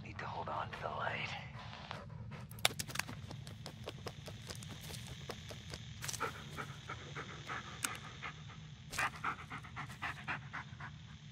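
A dog pants in the Blair Witch video game, a quick rhythmic breathing close by under quiet ambience, interrupted by sharp clicks and soft footstep-like taps, with a hushed voice briefly audible early on.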